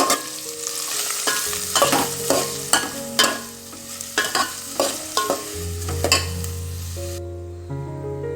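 Chopped onions sizzle in hot oil with fried garlic in a pan for prawn masala rice, a steady close hiss broken by repeated spatula scrapes and stirs about every half second, with a low tonal hum underneath and the sizzle thinning near the end.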